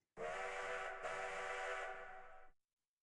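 A steam train whistle in a video game blows once, loud and sustained for over two seconds, with a short dip before it trails off.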